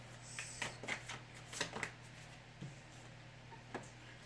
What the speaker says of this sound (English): If you don't want to see the shuffling, you can always just fast forward like a minute or so